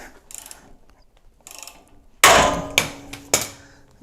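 Hammer blows striking a Toyota 4Runner's lower ball joint to separate it, with a few light taps first, then three loud, ringing metallic strikes spaced about half a second apart, close by.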